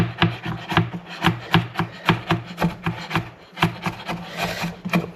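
A knife chops pork into thin slices on a wooden board for Korean red pork bulgogi, with steady, evenly spaced close thuds about every quarter second, continuing on its own with no talk.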